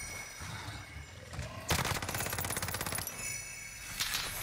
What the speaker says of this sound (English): you got TikTok Billy Robinson back there shooting at you